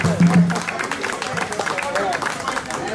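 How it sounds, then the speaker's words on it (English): Audience clapping at an outdoor entertainment event with drummers and dancers at a Ghana resort, a steady patter of many hands amid crowd chatter and voices. "Can I hear somebody clapping?"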